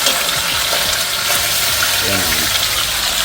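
Food fries in a pot, two pieces at a time, in a loud, dense, continuous sizzle with bubbling texture, while someone talks briefly over it.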